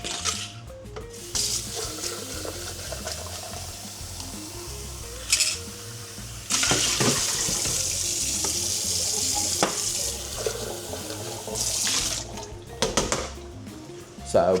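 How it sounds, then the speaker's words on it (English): Tap water running into a sink while a shaker bottle is washed, a steady close hiss and splash that swells and shifts with occasional louder gushes. "So I'm going to get a new shaker out, so I'll give that a wash in a minute."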